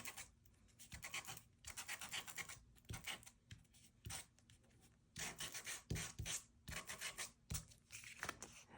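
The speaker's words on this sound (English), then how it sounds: "So it's just really kind of a personal preference as to how much sanding you do" Close, scratchy hand sanding of a paper surface for a faux embossed craft background, coming in short bursts of quick rubbing strokes separated by brief pauses.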